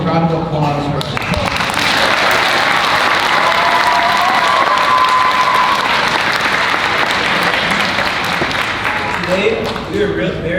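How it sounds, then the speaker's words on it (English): An audience at a Lunar New Year school assembly breaks into loud, sustained applause that swells and holds for several seconds before fading, with a voice briefly audible at the start and end. "hear an even louder round of applause for us."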